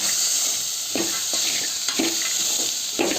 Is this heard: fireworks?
no